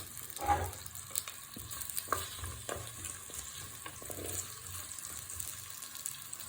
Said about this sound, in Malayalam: അതിനോട് നമുക്ക് വഴറ്റി എടുക്കണം.